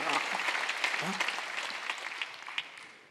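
Church congregation at a Sunday worship service claps in a brief burst of scattered, moderately loud hand claps that thins out and softens over a few seconds.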